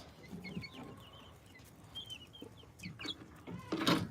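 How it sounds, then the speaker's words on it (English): Month-old chicks, one silkie and several cream legbars, cheep and cluck softly in a coop, scattered peeps building to a louder flurry of calls at the end. "So here are some chicks."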